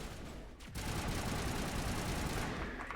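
Assault rifle fire in the sci-fi video game Mass Effect, a dense, steady rattle of automatic shots that holds for most of the moment after a brief dip, loud and continuous with no voices.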